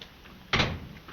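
An interior door in a 1938 comedy film scene opens with a single short burst midway through, a fairly loud latch-and-swing noise against a quiet background.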